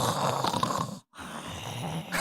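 A human voice mimics a dog snoring with heavy, snorting grunts, broken by a brief silence before the wet, rumbling snores resume.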